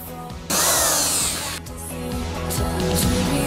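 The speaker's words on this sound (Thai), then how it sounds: "หรือว่าจะใช้ไขควงไฟฟ้านะคะ ไขเอาน็อตเข้าไป" An electric screwdriver whirs and strains as it drives a screw into wood, motor pitch rising and dropping over a few seconds.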